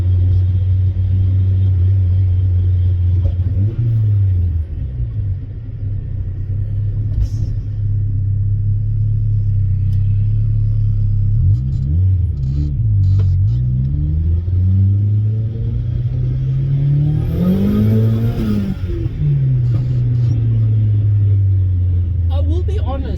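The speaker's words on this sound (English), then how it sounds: "It definitely loses the generic subie rumble towards the top end of the RPM gauge." Turbocharged Mazda Miata fitted with unequal length headers, its engine giving a loud, steady low rumble throughout, with rising and falling revs in the middle and near the end, close to the microphone.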